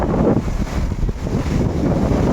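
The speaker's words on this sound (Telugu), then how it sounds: "అలలు అయితే చాలా గట్టిగా ఉన్నాయి, పెద్ద పెద్ద కెరటాలు వస్తున్నాయి" Big waves on the open sea at night during a ship journey from Andaman to Vizag, a continuous loud rush of water and heavy wind buffeting the microphone with no pauses.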